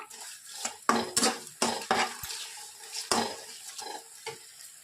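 Tomato masala with bay leaves frying in a pan, loud clanking spoon strokes against the metal over a light sizzle, several sharp hits in quick irregular succession.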